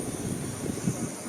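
At an airport, a passenger plane on an Ahmedabad-to-Delhi route gives off a steady, low engine rumble and whine, continuous and moderately loud, with faint background activity and no clear speech.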